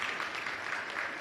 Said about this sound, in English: Please, you can give South Sudan a hand of applause again.